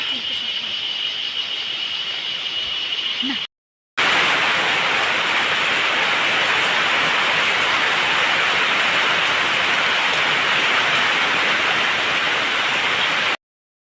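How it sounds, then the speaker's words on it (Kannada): Heavy rain pours in a loud, steady hiss, briefly cut by a moment of silence before continuing unbroken. "ಜೋರು ಮಳೆ ಬರ್ತಾ ಉಂಟು"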